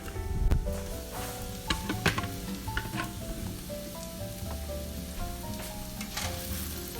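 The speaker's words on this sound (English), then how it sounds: "let's maybe mix the onions a bit, shall we?" Onions sizzle and fry steadily in a pan while a utensil stirs and scrapes through them, with a few sharper clicks and knocks early on, close and continuous, no voices.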